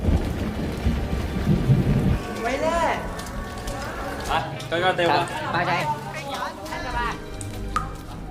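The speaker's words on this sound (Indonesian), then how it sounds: "Cuaca di luar yang tadinya begitu cerah berubah menjadi hujan yang sangat-sangat lebat dalam waktu singkat." Heavy rain pours and thunder rumbles in a film scene of a storm flooding a cave, a loud low roar at the start easing into steady downpour, with a voice speaking over most of it.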